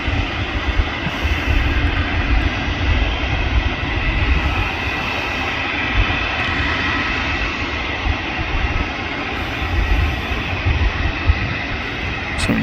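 A Turkish Airlines airliner at an airport gives a broad, continuous jet roar that rumbles steadily from a distance throughout, with no voices.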